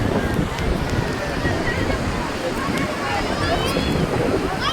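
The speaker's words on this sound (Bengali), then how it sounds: "হাওয়া তো প্রচন্ড" Strong, steady wind rushing and buffeting across the microphone by the sea, with a continuous roar of surf and gusts throughout.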